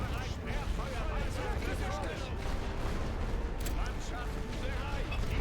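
An artillery barrage in the World War I video game The Great War: Western Front, heard as a dense, continuous roar of rumbling blasts and crackling fire with no clear gaps, with a voice talking over it.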